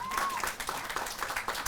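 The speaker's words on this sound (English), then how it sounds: "give yourselves another round of applause and everybody that spoke today" Audience applause at a groundbreaking ceremony for the Village of Valor, a steady patter of clapping that fills the short stretch while a voice speaks over it.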